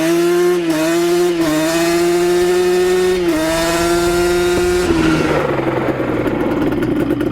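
A 1988 Yamaha Banshee two-stroke engine revving hard and close, a loud buzzing tone that holds steady, dips and climbs in several throttle blips, then falls away into a rougher idle near the end.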